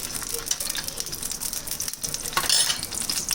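Beaten egg frying in oil on a flat tawa pan, a steady close sizzle and crackle that swells slightly toward the end, with no talking.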